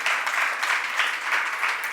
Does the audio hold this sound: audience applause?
yes